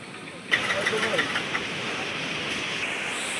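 A motorcycle engine bursts into a steady idling rumble, close and fairly loud, with a brief rev at the start and a constant drone afterward.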